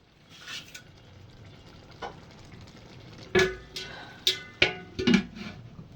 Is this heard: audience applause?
no